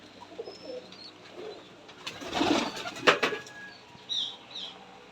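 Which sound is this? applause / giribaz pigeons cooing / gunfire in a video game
giribaz pigeons cooing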